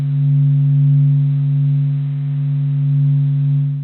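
Sonified reconstruction of the Sun's sound, built from its amplitudes and frequencies. A steady low, loud hum drones with a gentle slow swell and no voices.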